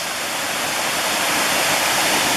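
Waterfall at Ohiopyle pouring into a river, a steady, loud, broadband roar of rushing water filling the whole moment without a break.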